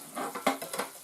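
Grayling fish frying in a pan of hot oil, a close crackling sizzle with bursts of spitting and popping, uneven and lively, with no one talking.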